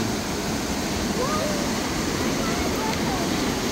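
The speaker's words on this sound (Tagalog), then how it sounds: "Ito yung Hookah Falls nila na tinatawag, pero ito yung sa ano, yung Waikato River." Huka Falls on the Waikato River roars as a steady, broad rush of churning water, loud and constant from start to finish, with a voice faintly audible beneath it.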